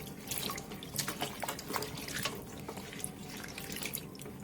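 Water is poured into a steamer pot holding meat, doenjang, bay leaves, coffee mix, soju and pepper, a close, uneven splashing trickle with small gurgles and drips.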